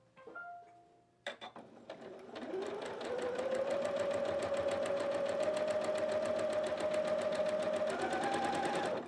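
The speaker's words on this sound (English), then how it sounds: "Sewing machine got away from me." A sewing machine starts up after a few clicks and then runs steadily at a fast, even stitching rhythm through quilt fabric, close and fairly loud, its pitch rising slightly near the end.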